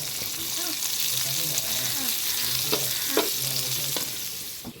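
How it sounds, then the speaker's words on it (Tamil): Onions, tomatoes, ginger and garlic fry for a chicken curry masala, a continuous bright sizzle with occasional spoon clinks and scrapes, close and steady, and no one speaking. "வெங்காயம் தக்காளி இஞ்சி பூண்டு எல்லாம் போட்டது வந்து நல்லா வரங்கிடுச்சு"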